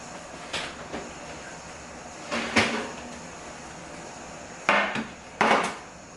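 Ribs are taken out of a home oven: four clattering knocks from the oven door and rack arrive in two close pairs, with quiet gaps between them.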